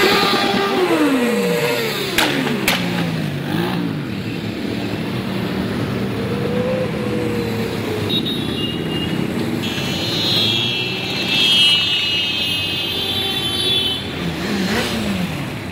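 A biker convoy rides past on a hot summer day, motorcycle engines droning and revving near and far, with passing vehicles sweeping by and a brief horn-like tone partway through.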